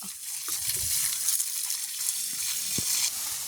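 Water pours steadily onto dry soil with a hissing, gushing wash, close by and continuous, with a few soft thuds underneath.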